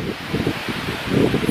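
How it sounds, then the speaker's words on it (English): Strong wind rushing through leaves with a steady, dense rustle, swelling louder toward the end, no voices. "it's really windy and it's a glasses day today"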